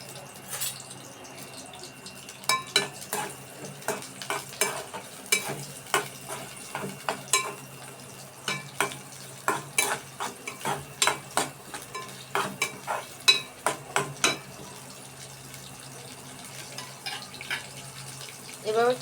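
Pre-cut onion frying in a pan for a Bengali loitta fish jhuri dish, with steady low sizzling and repeated sharp clacks of a spatula stirring against the pan, close and moderately loud.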